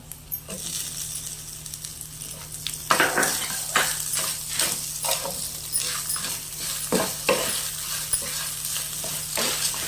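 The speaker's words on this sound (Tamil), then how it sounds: "இப்போ இது எல்லாத்தையும் சேர்த்து நம்ம வறுத்து ஆற வச்சு" Horse gram and grated coconut dry roasting in a pan, a steady sizzle broken by a rapid run of scraping, rattling stirs from a spoon against the metal, loud and close with no speech.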